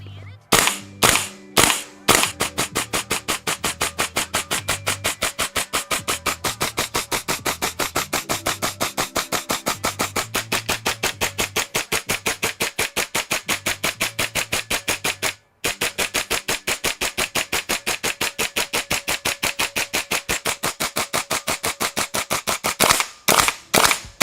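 A KWA LM4C gas airsoft rifle dry fires with its bolt cycling, a rapid, loud, evenly spaced string of sharp clacks that runs for over twenty seconds with one brief pause and a few slower shots at the start and end.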